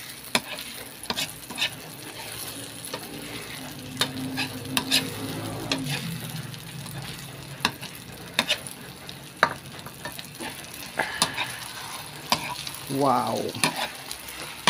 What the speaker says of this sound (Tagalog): Okay, haluin natin ulit guys.